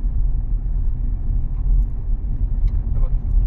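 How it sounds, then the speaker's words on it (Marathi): An old Honda Accord pulls slowly in fifth gear, its engine a steady low rumble with road noise throughout, close and continuous, with faint higher sounds now and then. "गाडीला ॲक्सिलेटर मारतो, गाडी इज पुलिंग धीरे धीरे."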